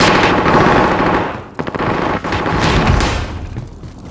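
Sustained automatic gunfire in Call of Duty: Modern Warfare, loud and close, with rapid bursts and a brief lull near the middle before the firing resumes.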